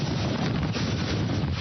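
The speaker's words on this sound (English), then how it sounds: "That's a wind gust right there." A hurricane wind gust buffets the microphone, a loud continuous roaring rush with no voices.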